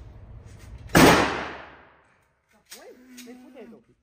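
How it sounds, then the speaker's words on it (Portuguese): A single loud gunshot fired outdoors at a Texas shooting outing, a sharp blast with a decaying tail, followed by people talking after a short pause. "Só vai escutar o tiro."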